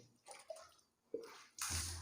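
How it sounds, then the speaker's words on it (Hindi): Water poured by hand over the left shoulder during a ritual full-body bath, heard as separate splashing bursts, with the heaviest pour at the end, close and fairly loud with no talking. "3 बार आपको बाएं कंधे पे पानी बहाना है।"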